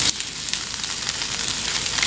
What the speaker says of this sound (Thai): เราก็แค่ผัดทุกอย่างให้เข้ากันนะคะ